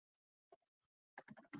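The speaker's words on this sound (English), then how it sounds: "I'm just typing to my laptop here." Keys tapped on a laptop keyboard indoors: a lone faint click, then a quick close run of several clattering keystrokes, alone with no talk.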